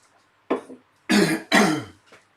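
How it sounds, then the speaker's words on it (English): Someone clears their throat in a few rough, raspy bursts, two strong hacks after a lighter one and a faint trailing rasp, close and alone. "just have a drink and just clear my throat a bit"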